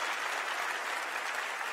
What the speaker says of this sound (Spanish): Denle un aplauso bien fuerte al Rey.